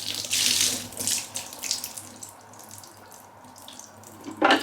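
Water pours from a container onto a carpet being cleaned with a Bissell SpotClean Pro carpet washer, a loud splashing gush at the start, then a quieter trickle and a final short splash.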